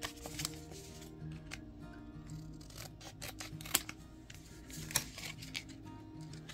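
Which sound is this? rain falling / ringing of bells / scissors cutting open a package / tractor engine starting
scissors cutting open a package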